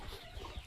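A rooster kept for a friends' picnic party clucks in a brief, faint burst of a few low calls.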